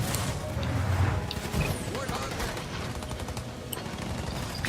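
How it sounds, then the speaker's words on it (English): Rapid gunfire from a siege turret in the real-time strategy game Halo Wars 2 crackles in bursts amid battle noise, under a commentator's talk. "A siege turret is wrecking."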